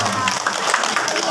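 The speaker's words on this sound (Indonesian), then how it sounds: "Beri tepuk tangan yang meriah." Children at a primary school Isra' Mi'raj celebration clap together in a loud, dense burst of applause, close and sustained, with voices mixed in.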